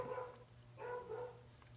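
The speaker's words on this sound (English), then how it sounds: "Sorry for the barking in the background" A dog barks a few times in the background, faint and distant, in short bursts over a low steady hum.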